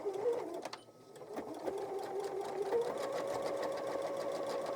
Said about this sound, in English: I'm going to start by back stitching.